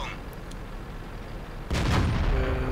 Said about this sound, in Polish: Strzał w ruchu.